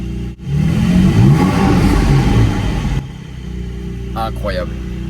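A car engine at a Cape Town outing revs hard for about three seconds, loud and close, then drops to a lower idle.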